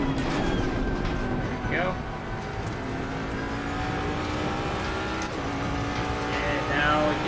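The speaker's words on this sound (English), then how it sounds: "So now it just goes some upshifts here." Race car engine in Assetto Corsa Competizione rising and stepping through upshifts, a steady droning tone with pitch sweeps at each gear change, heard under a man's speech.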